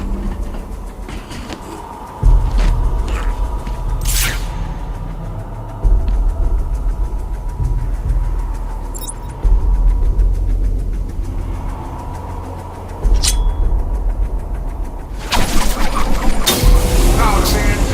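A large ventilation fan in Batman: Arkham Asylum powering up, a low droning rumble that rises and steps up in stages, with muffled voices over it.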